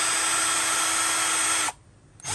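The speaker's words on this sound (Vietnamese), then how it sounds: "khoan tường qua chơi luôn nha anh em" A Hart 20V cordless drill runs with a loud, steady, high-pitched whine close by. The whine cuts out briefly, then the motor starts up again.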